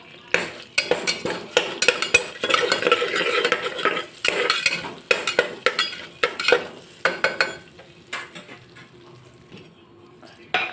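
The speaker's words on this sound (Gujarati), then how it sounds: "બધા જ ખડા મસાલાને આપણે સાતળી લઈશું" Whole spices sizzle in hot oil: cinnamon, cloves, mustard seeds and asafoetida, for paneer cashew masala rice in a pressure cooker. Bursts of frying crackle mix with frequent clinks and scrapes of a spoon against the pot.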